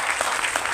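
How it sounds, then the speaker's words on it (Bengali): Audience applause at a business seminar, a short burst of steady, dense clapping from a crowd with no voices over it. "সমস্ত হার্ডলাইনদের জন্য একবার জোরদার হাততালি দিন"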